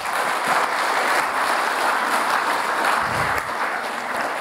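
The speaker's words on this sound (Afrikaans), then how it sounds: "Kom ons gee ander klap van Geta" Applause from an audience at an Easter resurrection church service, a dense, steady clapping that holds loud throughout with no pause.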